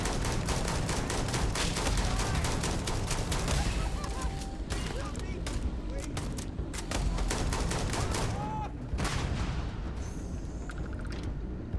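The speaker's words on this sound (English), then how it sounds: "As soon as you shoot this robot," Rapid bursts of automatic gunfire pound away at a robot in the video game Starfield, dense overlapping shots with booms, loud throughout, and someone talks over them.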